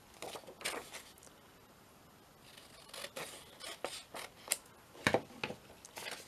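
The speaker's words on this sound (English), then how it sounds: "I'm going to use my scissors to cut these little bits off" Scissors snipping small bits off paper or card in a craft project, a scattered series of quiet, crisp cuts and rustles close by, with a few sharper snips near the end and no talk.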